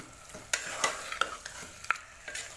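Mutton pieces frying in oil with salt, chili powder and turmeric, stirred in a pan, close metallic scrapes and clicks over a soft steady sizzle, no talking.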